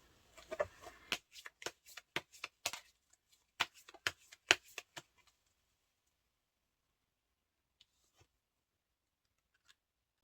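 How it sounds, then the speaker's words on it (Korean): Tarot cards are shuffled in a quick series of crisp riffling snaps, followed by quieter taps and a couple of isolated clicks as cards are drawn and laid down, close and alone without talk. "좋은 카드를 한번 뽑아볼게요"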